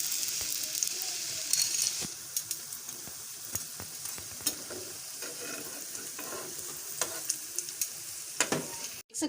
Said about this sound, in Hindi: हम इधर से दोबारा इसको 2 से 3 मिनट तक हम फ्राई करेंगे।